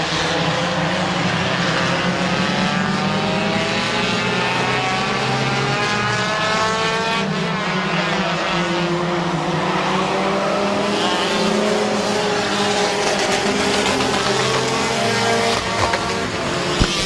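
Race cars at Midvale Speedway, a loud, continuous engine roar from several cars with rising and falling tones as they pass, filling the whole stretch with little break.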